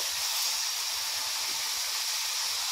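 Beef browning in a pan with spices and onions, a steady loud hiss of sizzling oil throughout, with faint low bumps of stirring underneath.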